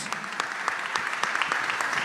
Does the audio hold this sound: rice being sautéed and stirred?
no